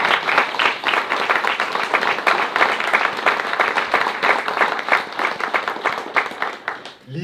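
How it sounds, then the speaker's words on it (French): Steady applause from an audience at a book presentation on Walloon folkloric marches, with dense, even clapping that holds for about seven seconds before tapering off near the end. "et on l'applaudit bien fort."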